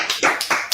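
A group gives a few quick, sharp claps, loud and close, lasting under a second.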